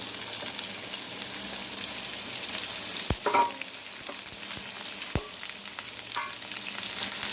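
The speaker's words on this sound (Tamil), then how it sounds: "இப்போ எண்ணெய் நல்லா சூடானதும் நம்ம நறுக்கி வச்சுருக்க ஒரு பெரிய வெங்காயத்தை சேர்த்துக்கலாம்." One large sliced onion fries in hot oil for vegetable spring rolls, giving a steady, close sizzle with a few sharp clicks from stirring and no voices.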